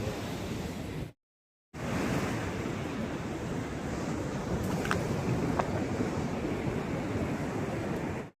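Sea waves washing onto the seashore, a continuous rolling surf roar with wind buffeting the microphone, steady and fairly loud apart from a short silent gap near the start.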